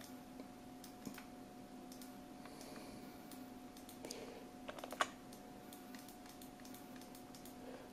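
Sparse, quiet computer keyboard clicks, key taps and mouse clicks scattered over a faint steady hum, with a brief cluster of sharper clicks near the middle.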